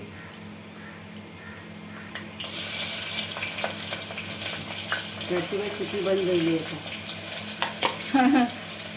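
Onions go into hot oil for a homemade khichda and sizzle and crackle steadily in the pan, with a sharp burst as they hit the oil, stirring sounds, and someone speaking over the frying.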